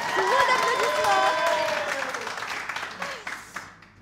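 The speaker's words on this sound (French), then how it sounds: "Sous vos applaudissements." Studio audience applauding on a French-language Réunion television dating show as a contestant is called up, a loud steady patter of clapping with tonal music and babble over it, fading toward the end.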